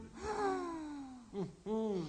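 Exaggerated deep breaths performed on a New Year children's TV show: one long, drawn-out voiced inhale, then two shorter, throaty breaths close to the microphone.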